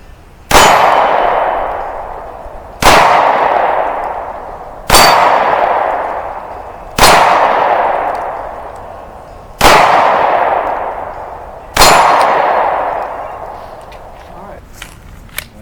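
Six Glock 43X pistol shots, each followed by a bright metallic ring from a struck steel target, spaced evenly about two seconds apart, loud and close, with each clang decaying slowly.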